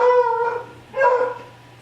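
A dog indoors barking at another dog outside, two close, loud, tonal barks, the second a little longer, with a faint low hum beneath.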